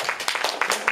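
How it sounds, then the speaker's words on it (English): Brief burst of audience clapping after someone is called up to the stage, a short dense patter of many hands at close range. "Give him a round of applause."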